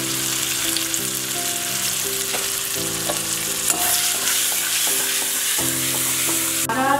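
Cumin powder fries in hot oil with a steady, loud sizzle while a spoon stirs and scrapes the pan throughout, close-up and without talk.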